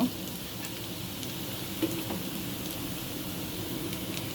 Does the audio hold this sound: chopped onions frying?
yes